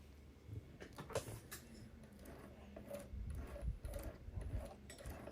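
A home sewing machine stitches fold-over elastic for a micro bikini, giving a steady mechanical whir with faint ticking close by. The stitching grows louder and busier in the second half.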